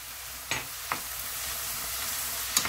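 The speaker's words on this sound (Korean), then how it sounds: "그렇게 살짝 볶아줍니다." Shredded zucchini with garlic and soy sauce is stir-fried in a pan: a steady close sizzle runs throughout, broken by a few sharp spatula scrapes and taps, with no voices.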